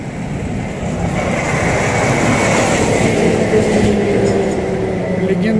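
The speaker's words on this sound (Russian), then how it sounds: "Легендарный трамвай номер 13." A tram, route number 13, rolls past on a street in an old part of Novosibirsk, a steady loud rumble of wheels and motor holding close and even for several seconds with no talk over it.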